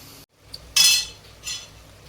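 Spoon scraping and clinking against a pot while stirring a village-style country chicken curry, two short close bursts after a brief silence, with no talking.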